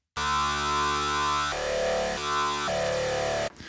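A harsh, buzzy wavetable synthesizer tone from Arturia Pigments drones loudly with a bright, gritty edge, its timbre shifting in a few abrupt steps before cutting off.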